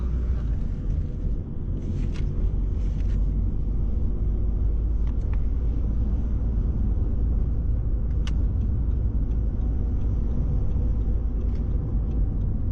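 A car drives by on a road, a steady low rumble that stays loud and close for the whole stretch, with no talk over it.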